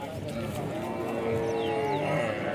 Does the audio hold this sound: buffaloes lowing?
yes